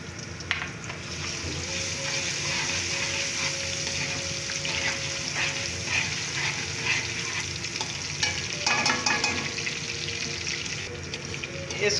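Garlic and green chillies fry in a hot pan with a steady, close sizzle that runs throughout, broken by occasional stirring clatter and a brief watery splash near the end.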